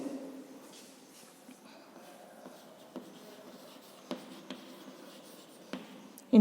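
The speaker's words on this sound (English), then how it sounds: "So write down here ingredients." A pen writes on paper in quiet, faint scratching strokes, with a handful of light taps and brief pauses between letters.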